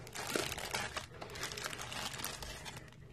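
Paper straws crinkling and rustling as they are handled up close, a busy dry crackle that continues through the clip with no talking.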